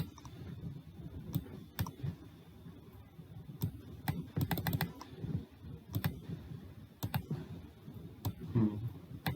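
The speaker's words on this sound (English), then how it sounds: "just type 1F311 this character code and click on insert" Computer keyboard typing a character code, light plastic key taps in irregular clusters followed by a few crisp mouse clicks, close and fairly quiet.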